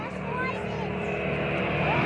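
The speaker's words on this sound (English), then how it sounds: "listen to the howl of that radial engine, uprated to develop" Radial engine of an aerobatic aircraft uprated to 460 horsepower, performing rolls and a 10G pull-up at the Woodchurch 2005 air display, a steady loud droning howl throughout with a commentator talking over it.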